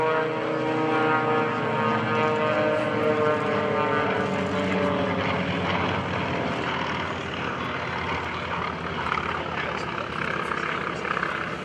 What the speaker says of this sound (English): There's the sound of the radial engine, very different from that of the Mustang.